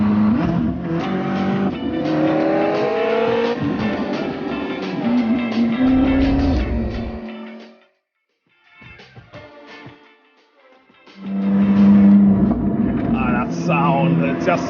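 A Koenigsegg Jesko supercar engine roars and shifts through gears up close on a race track, drops away briefly into quiet, then surges back loudly with tire noise.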